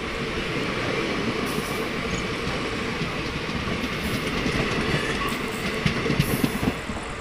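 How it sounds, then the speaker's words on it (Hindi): A Dildarnagar–Mughal Sarai passenger train (03641) runs from Dildarnagar toward Zamania, giving a steady, close rail rumble with clattering wheel noise that holds for the whole stretch and grows slightly louder and rougher near the end. "और हमारी ट्रेन भी डिपार्चर कर चुकी है दरौली रेलवे स्टेशन से।"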